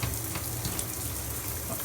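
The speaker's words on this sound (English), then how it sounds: "there's some water leak from the top." Water leaks from the top of a shower mixer during setup, a steady close hiss and spatter that runs without a break.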